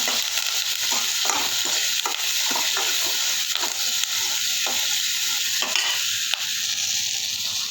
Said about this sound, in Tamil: கருவேப்பிலை, இது கூட கொஞ்சம் உப்பும் சேர்த்து இது நல்லா வதக்கி விட்டுறலாங்க